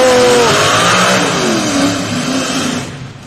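A pulling truck's engine roars loud and close at a tractor pull on a dirt track, revving hard under full throttle with a rising whine that fades away at the end.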